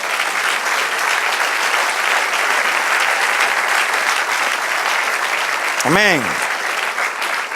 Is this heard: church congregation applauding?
yes